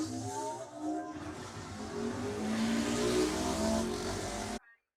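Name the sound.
racing motorcycles (Honda 750, Honda 500) setting off at road race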